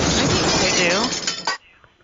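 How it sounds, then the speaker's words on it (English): A telephone handset bumped against someone's chest as it is lifted toward the face, giving a loud, harsh, crackling rustle over the line for about a second and a half before it cuts off abruptly, with speech mixed in. "you bumped the phone, I think, with your part of your chest there as you were picking it towards your face"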